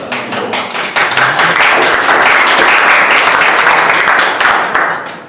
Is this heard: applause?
yes